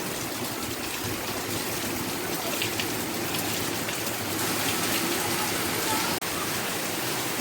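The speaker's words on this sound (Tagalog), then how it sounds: "kana lang epekto sa bagyong Tisoy. Grabe kadag-on oh." Heavy typhoon rain pours steadily in Cebu, a dense continuous hiss of drops hammering surfaces with trickling water underneath, loud and unbroken throughout.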